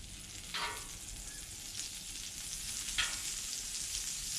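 Oil and butter heat for French toast on a Blackstone griddle, giving a constant soft frying hiss with a couple of brief sharper crackles.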